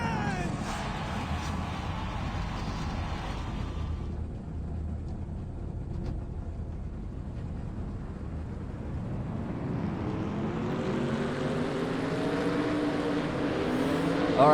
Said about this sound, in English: now they got the engines fired up